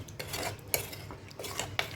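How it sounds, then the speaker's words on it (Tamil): A spoon scrapes and clinks against a metal pot while thick mutton curry is stirred, with a few sharper knocks, fairly quiet. "இப்போ நல்லா மிக்ஸ் பண்ணிச்சுக்கிறோம்"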